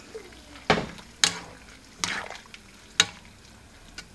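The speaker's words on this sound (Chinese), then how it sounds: "接下来呢，下入菠菜。" Cut spinach goes into a pot of boiling water with a few drops of oil for blanching, giving four sharp splashing hisses spaced roughly a second apart over a soft bubbling background.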